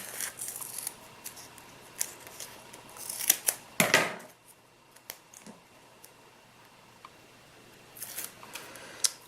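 Scissors snip thin strips from a roll of two-way tape with scattered crisp clicks and cuts, one louder rustling burst midway, in a quiet room.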